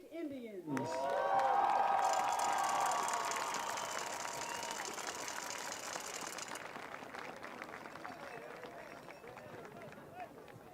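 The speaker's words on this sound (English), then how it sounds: "let's have a round of applause for the runner-up in this year's Boys Soccer County Tournament, the Passaic Indians." A crowd at the Passaic County boys soccer final gives steady applause for the runner-up Passaic Indians, a loud, dense clatter that slowly tapers. A sustained tone and a brief falling whoop come before it.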